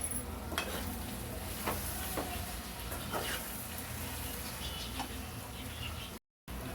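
Soft scraping of a spoon stirring a brinjal, drumstick and dried prawn curry in a pan, with faint sizzling and occasional light clinks, quiet and close.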